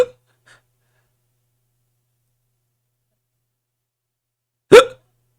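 A player at a tabletop role-play session imitates a hiccup with his voice: one sharp, loud hiccup bursts out after a long stretch of near silence.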